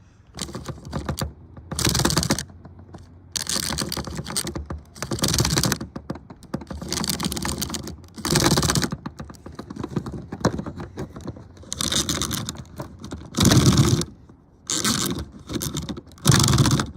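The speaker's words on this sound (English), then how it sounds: "All you gotta do is just pull on this pull string, zip cord sort of thing" Plastic pull-string zip cord on a Hulk action toy yanked repeatedly, giving bursts of ratchety, scraping whirs separated by short pauses, close and fairly loud with no talk.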